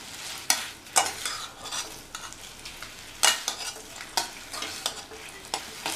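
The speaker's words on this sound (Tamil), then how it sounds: "சேர்த்துட்டு நல்லா மிக்ஸ் பண்ணி விட்டுருங்க." Fried cauliflower for Gobi Manchurian being stirred and tossed in a hot pan, with a steady sizzle broken by repeated sharp scraping strokes of a spoon against the metal, close and moderately loud.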